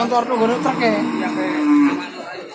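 Cattle at a livestock market in Jatirogo, Tuban, East Java, moo in long, drawn-out calls, several overlapping and close by, loud and continuous over a busy market background.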